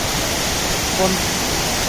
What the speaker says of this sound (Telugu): ఇప్పుడు మనం కొత్తపల్లి వాటర్ ఫాల్స్ దగ్గర ఉన్నాం